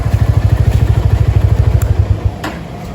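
A motorcycle engine idles close by with a steady, throbbing putter for about two seconds, then cuts off, leaving quiet background noise and a faint click.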